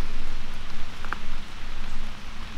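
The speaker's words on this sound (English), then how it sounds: "rain is coming down" Rain comes down at a riverside campsite, a steady, close hiss and patter of drops on surfaces with a broadband rushing wash and no talking.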